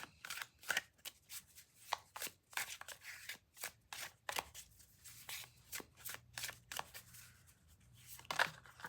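Tarot cards are shuffled repeatedly, quick riffling bursts and soft slaps in an irregular rhythm, close and fairly quiet.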